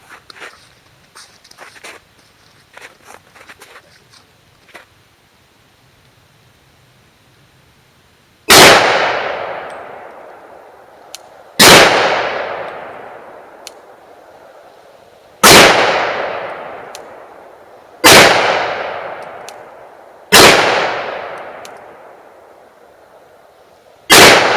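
Six loud gunshots from a Glock 20 chambered in 9x25 Dillon, firing hot 115-grain Hornady XTP loads with Blue Dot powder at a range, spaced a few seconds apart with long ringing decay after a quiet start.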